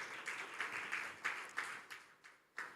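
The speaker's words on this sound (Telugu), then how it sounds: "గట్టిగా చప్పట్లు కొడదాం." A church congregation at a live fasting prayer service claps loudly together, with uneven bursts of applause rising and falling over a few seconds and no voices heard.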